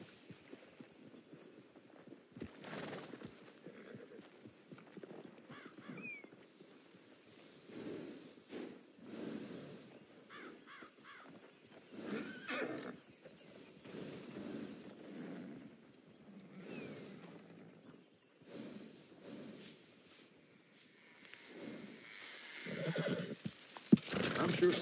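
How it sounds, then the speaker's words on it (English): Horse neighing and whinnying in Red Dead Redemption 2, a Blood Bay Thoroughbred, with clip-clop hooves and a steady hum beneath, over a long stretch with in-game voices talking at times. "That's a good horse."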